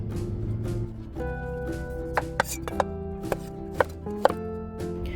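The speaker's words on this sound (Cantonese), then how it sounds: "你可以切滾刀狀或者切片都得" A knife chops bottle gourd on a cutting board in a home kitchen, several crisp, close knocks coming at an uneven pace over a low background hum.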